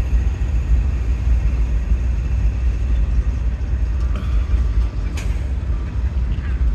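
An Indiana & Ohio southbound freight led by an ex-BNSF Dash 9 locomotive rolls past. There is a steady, loud low rumble of wheels and cars throughout, with a brief higher squeal partway through and light background talk.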